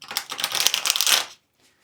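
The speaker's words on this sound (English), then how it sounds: "riffle shuffle, I would say, is also possible just because the cards are quite bendy" Bendy, gilded tarot cards are riffle shuffled in one quick, close burst of dense, crisp flapping that stops abruptly.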